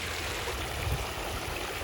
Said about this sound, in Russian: здесь есть прикольный фонтан